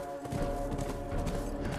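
Horse hooves galloping in The Last of Us Remastered video game, a dense rapid clatter of hoofbeats over loud continuous game noise, close and steady throughout.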